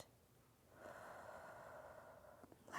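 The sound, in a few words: breathing out during a breathing exercise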